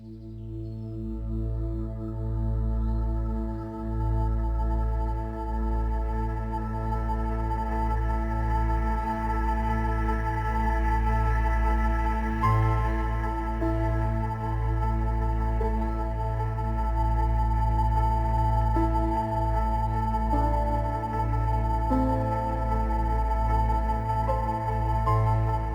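Crime documentary underscore with the bass and drums muted, leaving sustained low tones and layered harmonic pads that drift slowly and steadily for the whole stretch with no talking.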